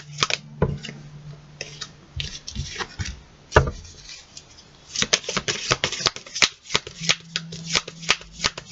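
Thick, unusually shaped tarot cards being shuffled by hand at close range, a run of crisp riffling and rubbing bursts with brief pauses, fairly loud with no talk over them.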